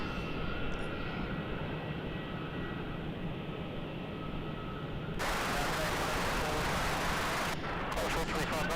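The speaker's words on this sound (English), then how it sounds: "Qantas 837 from Darwin lands on 27" A Qantas airliner arriving from Darwin lands on runway 27 at Melbourne Airport, heard as a continuous distant jet roar that swells into broadband rushing noise, joined by wind-like buffeting toward the end.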